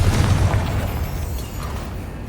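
Confringo spell explosion in the Hogwarts Legacy video game, a loud deep rumbling boom that fills the short moment and slowly fades.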